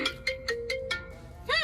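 A mobile phone ringtone plays a quick series of bright electronic tones close by on an Ahmedabad street, followed by a brief swell of background noise.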